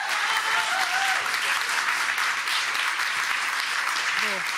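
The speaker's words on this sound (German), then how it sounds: "Applaus." Dense, loud audience applause at a Pan-African congress gathering as people are called onto the stage, a continuous wash of clapping that holds steady throughout, with faint voices underneath near the end.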